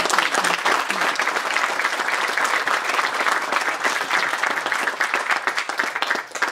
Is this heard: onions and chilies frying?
no